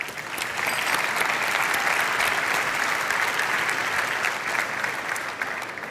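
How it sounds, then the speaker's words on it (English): Sustained applause from a startup conference audience at Slush 2025, steady and even clapping for several seconds without a break. "let's give them a big round of applause"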